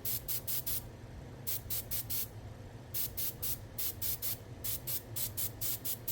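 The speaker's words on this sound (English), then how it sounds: "Here I'm airbrushing all the tongues that have been created in many design options and sizes" Airbrush spraying paint onto silicone tongues, heard as short hissing bursts in quick groups of three or four, separated by brief pauses over a steady low background hum.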